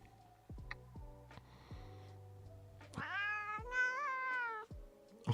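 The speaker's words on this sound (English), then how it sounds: "The cat is being touched, which is unacceptable!" A cat meows while being touched, a few short mews followed by a longer drawn-out complaining meow, close and fairly quiet, with soft ticking and faint background sounds in between.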